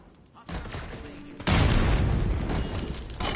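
A frag grenade explodes in Call of Duty Black Ops 6 with a sudden loud blast about halfway through, and a dense rumble of battle noise continues after it, with voices mixed in.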